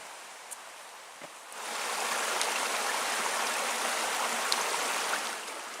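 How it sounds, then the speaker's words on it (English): A stream flows down in a valley of a river trail, a steady broadband rush that swells after a quieter opening and holds even, with no voices. "We hear a stream down in the valley"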